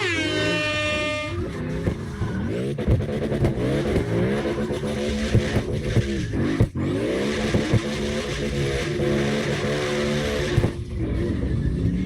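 A drifting Lexus in the video game CarX Drift Racing Online, its engine revving hard in repeated rising and falling sweeps, with a brief horn-like tone at the start and continuous loud game engine sound throughout.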